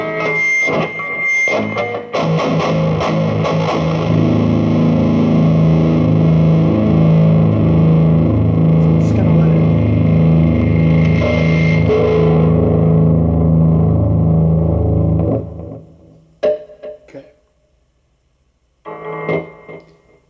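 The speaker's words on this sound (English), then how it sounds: "I'm going to do a little bit of palm muting so you can hear what I'm talking about" Palm-muted electric guitar chugging through a Peavey Vypyr VIP 2 amp with heavy distortion, loud and steady rhythmic chords for about fifteen seconds, then a few brief picked notes and a short pause.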